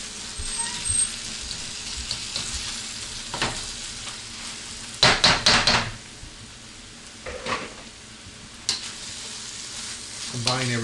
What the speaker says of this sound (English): Break these stewed tomatoes up a little bit.